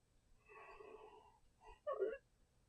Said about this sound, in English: he's going to make you yawn now